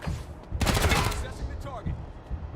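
Rapid automatic gunfire in a video game firefight, a loud sustained burst of shots near the middle over game ambience, with brief voiced callouts around it.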